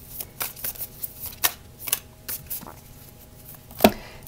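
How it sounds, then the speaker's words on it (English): Tarot cards are shuffled by hand in quiet sequences of soft riffling and flicking taps. One sharper card snap stands out near the end, and no one speaks. "I'm going to put these back and then shuffle them again"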